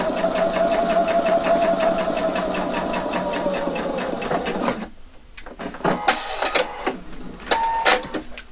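A sewing machine stitches a double welt pocket, running in one steady continuous burst for several seconds, then stopping into quieter handling clicks and short noises.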